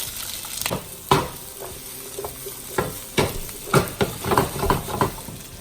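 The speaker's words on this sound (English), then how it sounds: "in 2 tablespoons of oil, I'm gonna saute peppers and onions really quick" Peppers and onions sautéing in two tablespoons of oil for chicken jalfrezi: a steady close sizzle broken by repeated sharp spatula scrapes and clanks against the pan.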